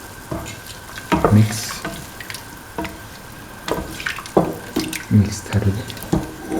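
Coconut milk poured into a cooking pot for a mint cottage cheese stew, a liquid splash with a few bumps and clinks, up close and fairly loud.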